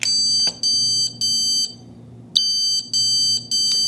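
A loud electronic alarm on emergency lighting, triggered by a power outage, blares in repeated high-pitched bursts with short gaps between them, close and insistent.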